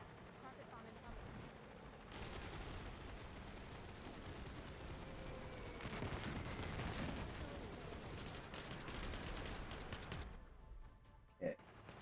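Carpet bombing strikes in Cepheus Protocol, with dense rolling blasts and crackling impacts. They build into a continuous roar, then thin out to scattered pops and one sharp loud bang near the end.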